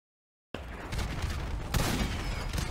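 Rocket-propelled grenades exploding in a video game battle, a dense barrage of loud blasts after a brief silence, with one sharper burst near the end, all rumbling without pause.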